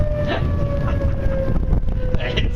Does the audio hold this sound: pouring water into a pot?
no